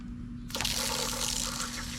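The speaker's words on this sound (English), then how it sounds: "And we hear water going in and water filling up here." Water rushes into an EZ-Flow fertilizer tank after a valve opens, starting abruptly and then running as a steady hiss of filling liquid under a constant low hum.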